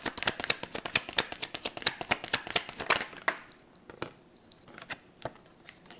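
Tarot cards are shuffled and drawn in a rapid run of close, crisp riffling taps for about three seconds, then fewer, more scattered card flicks and slides.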